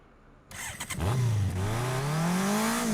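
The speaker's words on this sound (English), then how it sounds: "as the engine roars to life" A car engine in the video game Runner Preamble cranks, catches and roars to life, then holds a loud, steady rising growl after a brief silent start.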